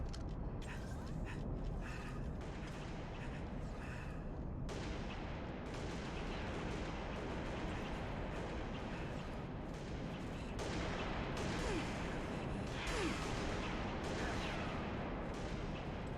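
Gunfire rattles through a Halo Reach match in a constant barrage of shots and mechanical clatter, loud and unbroken across the whole stretch, with sharper bursts standing out at moments.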